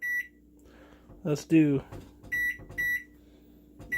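A microwave oven timer beeps in short, evenly spaced electronic tones, about four beeps spread across the few seconds, while a person talks briefly in the middle.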